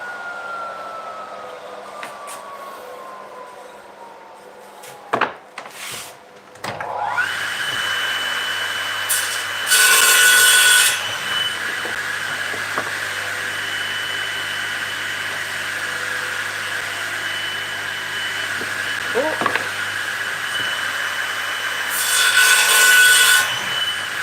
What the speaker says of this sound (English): That one is a tad long, so I need to trim a little bit off this one here.